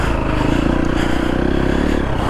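Triumph TF250E dirt bike ridden through Australian bush, a close, loud, steady engine drone with a sustained buzzing note and slight rough texture, no pauses over the short stretch.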